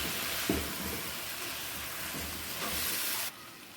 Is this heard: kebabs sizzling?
yes